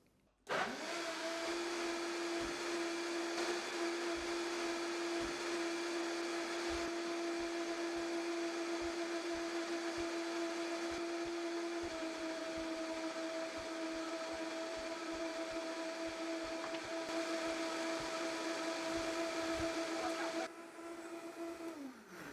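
A blender mixes a vegetable juice cocktail made with a bag of vegetables and ice, starting abruptly and running as a loud, steady motor whine with a shift in pitch partway through before winding down near the end.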